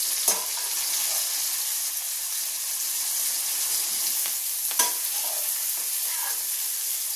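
Cluster beans are stir-fried in a pan, producing a continuous close hiss and sizzle, broken twice by sharp scraping clicks of stirring.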